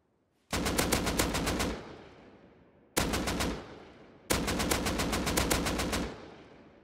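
Full-auto AK rifle fire in the game Rust: three sprays of rapid, evenly spaced loud shots, the first about a second long, a short burst, then another longer burst, each with a fading tail.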